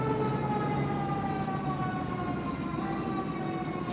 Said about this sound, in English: wait for that siren to go away.